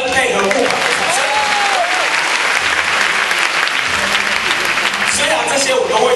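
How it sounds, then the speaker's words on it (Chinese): A crowd at a university taekwondo club's freshman night show in 2006 claps loudly and steadily through a board-breaking demonstration, with voices heard under the applause. "是不是要清脆的掌声配合木板的掌声？"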